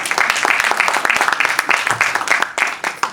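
An audience at a live music concert bursts into dense, steady applause, many hands clapping loudly and continuously for several seconds, with a voice faintly mixed in.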